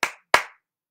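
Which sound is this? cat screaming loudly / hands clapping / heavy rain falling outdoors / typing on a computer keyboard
hands clapping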